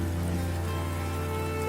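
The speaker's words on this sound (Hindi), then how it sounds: "यह बारिश 1 दिन की नहीं, 10 से 15 दिन तक चलने वाली है" Heavy rain in an animated story set in freezing cold, a continuous dense hiss of downpour with a steady low hum beneath, unbroken and fairly loud throughout.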